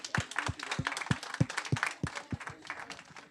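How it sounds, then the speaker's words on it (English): Scattered clapping from a small audience at a livestreamed reception event, with individual claps distinct and fairly close, tapering off toward the end. "can we please give IRI a round of applause?"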